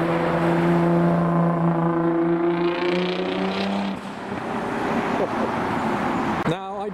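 A Nissan GT-R drives past at a car show, its loud engine note holding steady and close for several seconds before fading into crowd and traffic noise. A sharp clatter comes right at the end.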